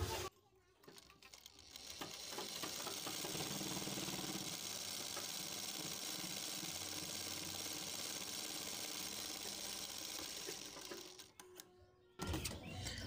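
Sewing machine running a straight stitch on a half collar, a steady mechanical whirring for most of the stretch, starting after a quiet moment and cutting off near the end.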